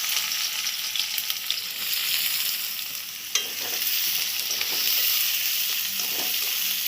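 Chopped onions fry in a pan as the base for a Bengali-style mutton curry, giving a steady, bright sizzle with occasional scraping stirs throughout, close and continuous with no talking.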